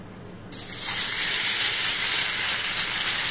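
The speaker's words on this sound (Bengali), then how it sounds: "বড় বড় মাছ তো একটা একটা করে ভাজবো। তেলটা গরম হয়ে গেল," Pomfret fish goes into hot oil in a pan, and a sudden loud hiss bursts out, then swells into a steady, dense sizzle that carries on without a break.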